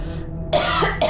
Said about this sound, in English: Excuse me while I cough my lungs out.